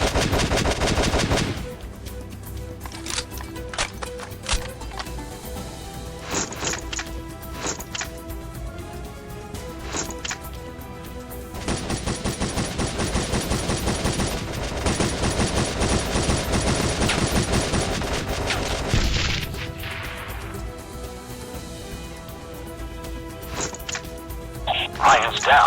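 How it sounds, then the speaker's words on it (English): Heavy automatic gunfire rages through a firefight in the mobile shooter Modern Combat Sandstorm, with dense bursts rattling over sustained stretches, separate volleys breaking out between them, and radio voices talking now and then. "We're taking heavy fire here."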